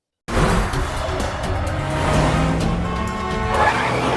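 Cars racing in a film chase scene, with a loud, continuous engine roar and tire noise that cuts in suddenly and holds steady with slight surges.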